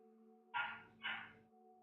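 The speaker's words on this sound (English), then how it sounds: "Don't mind the dog barking in the background." A young dog named Loki, a puppy, gives two sharp barks about half a second apart in the background, over a steady electrical hum and a quiet room.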